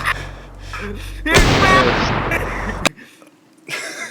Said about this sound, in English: I will try and shoot the corpse one more time